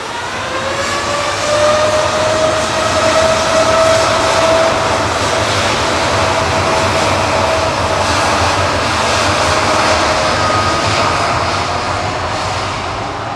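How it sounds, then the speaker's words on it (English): Jet airliner departing Manchester Airport on a flight to Rhodes, a loud steady engine roar with a rising whine that swells and holds throughout, no talk. "2E departing now to Rhodes with flight 2166."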